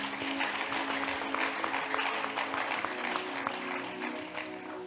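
Church congregation clapping and cheering together in a worship service, dense steady applause that stays loud throughout with a few shouted voices mixed in.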